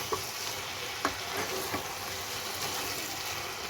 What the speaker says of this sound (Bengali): যে একটু জল জল আছে এটাকে নাড়িয়ে আমি শুকনো শুকনো করে নেব